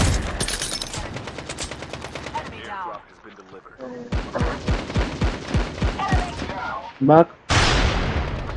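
Rapid bursts of gunfire from a Call of Duty Mobile match, sniper shots mixed with automatic fire, repeating sharp cracks through most of the stretch with brief pauses and a loud burst near the end, while players talk over it.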